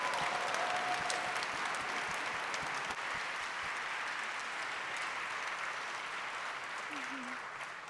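Sustained applause from a large audience fills the hall at the opening ceremony of a bleeding disorders conference in Atlanta, steady and dense throughout and easing slightly toward the end, with faint voices mixed in.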